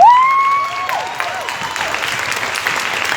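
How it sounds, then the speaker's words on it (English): A seated audience at a women's leadership panel event claps steadily, starting loud and tapering slightly, with a brief tonal sweep at the start. "can everybody please give Chelsea a round of applause?"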